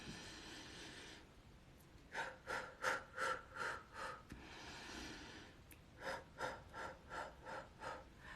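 Deep breathing exercise, rapid rhythmic in-and-out breaths in two bursts of quick pulses close to the mic, separated by a longer steady breath, with no talk.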